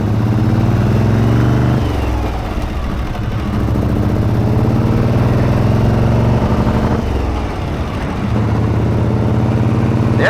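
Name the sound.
1937 Harley Knucklehead motorcycle engine running after kick start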